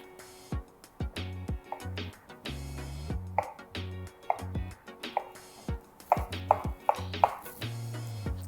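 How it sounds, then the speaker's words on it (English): A knife chops boiled eggs into bite-sized pieces on a cutting board, with sharp, irregular knocks coming in quick bursts and short pauses, close and clear with no talking. "Now I'm going to chop up my eggs into bite-sized pieces as well."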